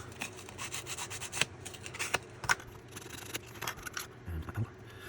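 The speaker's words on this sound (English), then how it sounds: "A little bit of sandpaper." Sandpaper rubbed by hand over a small wooden roof piece of an unfinished project, a close, quiet scratchy rasp with repeated strokes and a few sharper scuffs.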